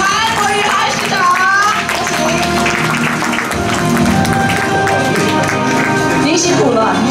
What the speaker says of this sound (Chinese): 让我们以热烈掌声欢迎高雄市的大家长